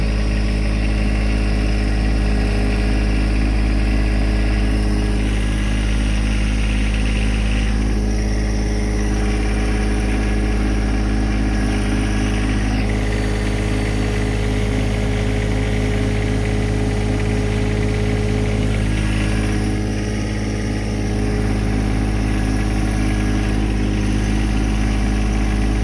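A tractor engine idles in low gear with four-wheel drive engaged, running loud and close with a steady, even rumble that holds unchanged for the whole stretch.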